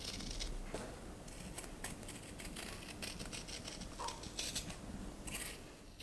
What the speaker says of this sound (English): So we leave the seam allowance here and start cutting a bit back.